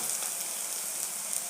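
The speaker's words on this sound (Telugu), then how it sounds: "చూడండి ఫ్రెండ్స్, ఉల్లిపాయ ముక్కలు వేగిపోయినాయి" Chopped onion and green chillies fry in a pan for a tomato curry, giving off a steady, even sizzle throughout with no talking.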